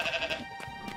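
A sheep bleats several times in quick succession, nearby and fairly loud, with wavering, nasal cries and no other voices.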